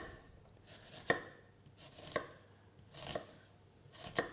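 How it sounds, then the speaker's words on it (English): A knife finely slicing an onion held by its root: four slow, evenly spaced chops land on the board about a second apart, quiet and close. "using our fingers as guides with the root in the onion, just cut as fine as we can"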